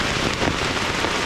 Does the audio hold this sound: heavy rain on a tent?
yes